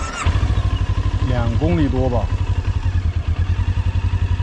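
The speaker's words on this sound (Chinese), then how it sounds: "你看现在声音，就怕它那个轱辘掉出来了" A Haojue motorcycle rides along on a long tour in Xinjiang, its engine giving a steady, rapid rhythmic pulsing and clatter from a worrying wheel fault, while the rider talks over it and a navigation voice briefly sounds.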